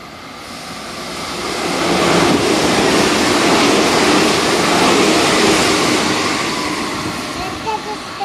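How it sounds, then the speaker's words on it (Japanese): A JR 313 series train rushes through Aimi station without stopping, a broad roaring swell that builds, holds loudly for several seconds and fades, with a station announcement voice over it. "まもなく3番線を列車が通過します。"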